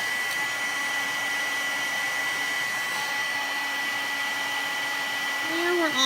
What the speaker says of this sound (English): you can use a heat gun for this step